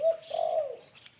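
A single close, deep spotted dove coo, a low hollow call rising and falling over about a second, with faint background noise.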